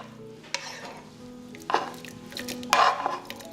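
Stir-fried minced meat tipped into a pot for sweet-and-sour bún bò, heard as close scraping and clattering of a utensil against the pan over a soft sizzle, with a few sharper knocks.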